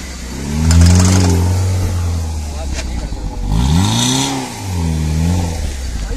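A Maruti Suzuki Ritz climbs a steep hill with a damaged clutch plate, its engine revving up loudly in rising and falling surges, close by, while people talk over it.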